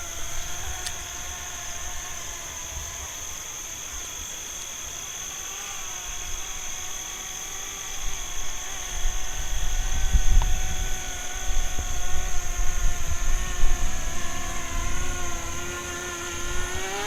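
A BWINE F7 mini drone with a 4K camera flies outdoors on its first flight, its rotors giving a steady high-pitched whine with tonal harmonics that grows louder and rougher midway as it climbs and moves nearby.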